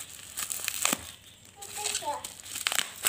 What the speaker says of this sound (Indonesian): Langsung saja kita sobek aja, karena bukanya sulit ya, kita sobek aja.